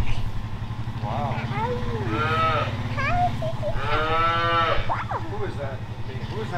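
Calves moo repeatedly on a farm, loud and near, with a steady low engine-like rumble underneath and several drawn-out calls overlapping.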